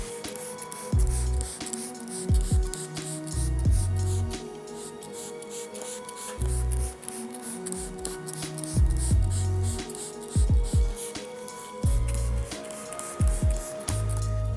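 Iron X cleaner is sprayed onto a car hood, quiet hissing spritzes heard close up amid repeated soft thumps and handling noises, with a steady background hum.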